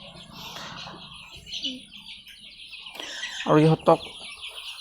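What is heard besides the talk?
Sonali hens clucking on a chicken farm in Assam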